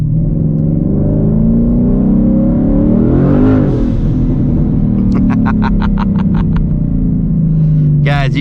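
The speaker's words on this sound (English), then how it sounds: "That's about half throttle, guys." A twin turbo 2020 Ford Mustang GT engine pulls at half throttle, a loud, steady low rumble that climbs in pitch mid-clip, with a voice talking over it and a burst of sharp pops near the end.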